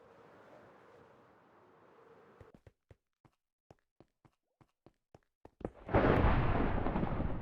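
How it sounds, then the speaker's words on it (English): A thunderstorm in the video game Minecraft: a low rumbling bed of sound, then a run of sharp, evenly spaced ticks, then a loud, broad crack and roar of thunder that keeps going to the end. "That is a thunderstorm if I've ever heard one."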